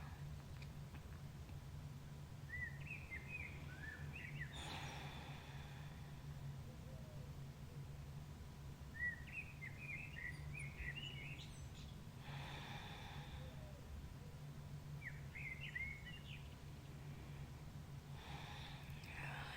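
Birds sing at a summer dawn around 4 am, bright chirping phrases returning in short bursts every few seconds over a steady low hum, moderately distant and fairly faint.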